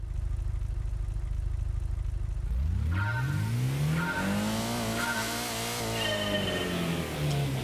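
Race-start countdown in the 1997 Gran Turismo video game: a steady run of evenly spaced electronic beeps sounds over a loud engine revving and rising in pitch, with tire noise, and no one speaks.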